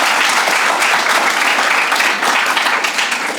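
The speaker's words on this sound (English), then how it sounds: "You all deserve big applause" Dense, steady applause from an audience at a police-organised debate on social media, loud and continuous for several seconds with no talk over it.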